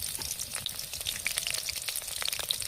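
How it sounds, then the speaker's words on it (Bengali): Marinated soya chunks fry in hot oil in a wok, giving a dense, crackling sizzle with sharp pops and spits throughout, close and fairly loud, with no talking. "এবার ধীরে ধীরে মাখিয়ে রাখা সয়াবিনগুলোকে আমরা তেলের মধ্যে ছেড়ে দেবো এবং ভালো করে এটাকে ভেজে নেব।"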